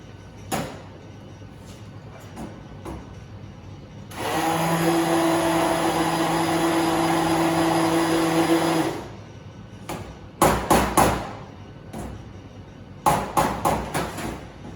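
Mixing a whipped mascarpone ganache, with an electric mixer whirring loudly and steadily for about five seconds, surrounded by clattering knocks and taps of utensils against a bowl.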